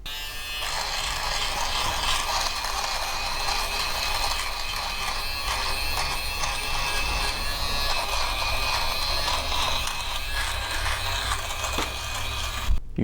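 A cheap electric fabric shaver from Walmart runs continuously up close, a steady high whirring buzz with faint scratchy shaving texture, with no talking throughout.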